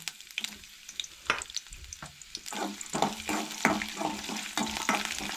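Garlic and ginger sizzling in hot oil for a brinjal curry, a steady crackling fry that swells louder partway through, with stirring scrapes and light clinks of a spoon against the pan.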